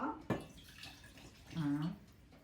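Water poured from a glass into a pot for making rum baba syrup: a short splash near the start, then a brief, clear pouring gurgle of liquid about two-thirds through, quiet and close.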